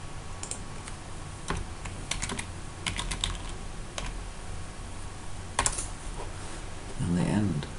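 Typing on a computer keyboard, close clusters of light key clicks in uneven bursts and pauses, with a brief murmur of voice near the end.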